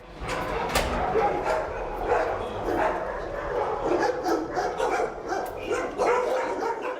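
Many dogs at an animal shelter bark and yip together, a continuous loud chorus echoing through the kennels with overlapping calls throughout.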